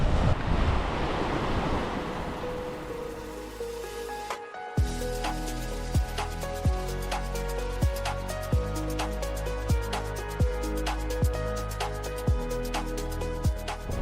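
Indian Ocean surf rolls in as a steady broadband wash for about four seconds, then cuts off as rhythmic music with regular beats takes over for the rest.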